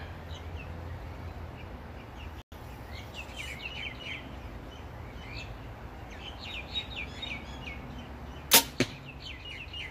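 A single sharp release of an Oblex arrow shot from a bow, snapping out near the end, with a quick second knock after it. Outdoor quiet fills the background, with birds chirping faintly.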